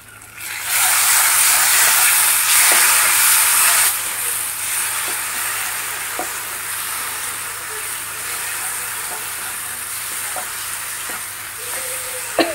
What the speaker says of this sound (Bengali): আর একটু কষাতে হবে